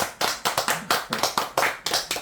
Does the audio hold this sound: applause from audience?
yes